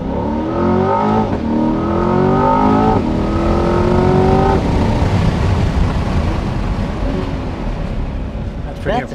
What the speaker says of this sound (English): That's that very cool US V8 engine note